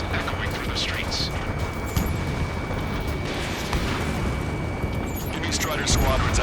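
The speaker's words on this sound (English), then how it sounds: "The city under martial law, gunfire and the roar of jets echoing through the streets." Gunfire and roaring jets fill a city under martial law in the video game Ace Combat 7, a dense, continuous rumble of battle with scattered bursts, loud throughout.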